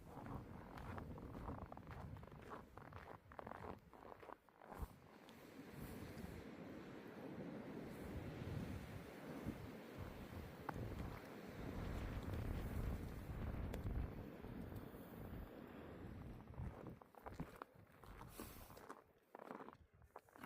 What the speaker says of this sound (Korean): 선대령 정상이 가까워질수록 바람이 세차게 불고 있다.